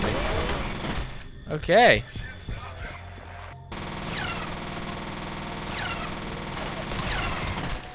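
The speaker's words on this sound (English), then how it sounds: "Oh, one of them is shooting at me." Enemies fire guns in the video game F.E.A.R., with bursts of rapid gunfire and a sharp crash early on, followed by more scattered shots while a player speaks briefly.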